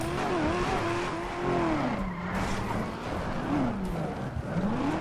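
A car in GTA 5 roars as its engine revs up and down in wavering sweeps while it drifts, with tire squeal and a loud, close, continuous engine note.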